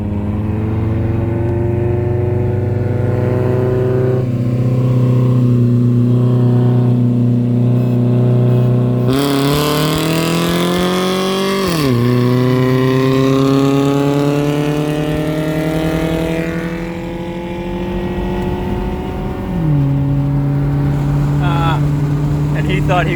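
A gutted-cat car with straight exhaust accelerates hard in a 20 roll race, its engine note climbing through gears with sharp upshift drops, loud and close, with an engine droning alongside.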